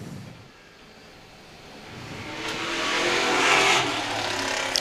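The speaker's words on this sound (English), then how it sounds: "Connor Souza around in car 38. He's back underway." Late model race car engines roar past at Star Speedway, rising from a distant drone to a loud high-pitched whine as the cars pass close, with no talking.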